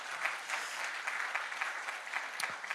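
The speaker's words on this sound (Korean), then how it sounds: "다시 한번 박수해 주세요" A church congregation at a Sunday worship service claps steadily and in unison, a dense, sustained round of applause filling the room without pause.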